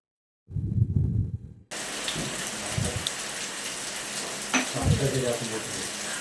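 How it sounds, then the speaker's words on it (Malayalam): Steady heavy rain pours down around a house sit-out in Kerala, India, a dense broadband wash that follows a short burst of talk at the start, with a couple of louder splashes near the end. "നല്ല മഴയായിരുന്നു നല്ല മഴ പെയ്യായിരുന്നു"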